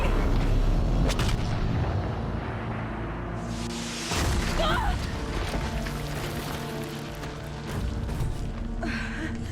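A new gun fires amid dense Horizon Zero Dawn combat on Ultra Hard against corrupted machines such as Deathbringers and a Stormbird, with booming blasts, a sharp burst near four seconds, and a continuous roar of battle noise.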